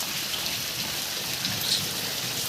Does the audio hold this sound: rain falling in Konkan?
yes